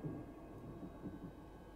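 Thunder from a storm in the strategy game Total War: Warhammer 2 rumbles low and faint, a continuous muffled roll with no voices.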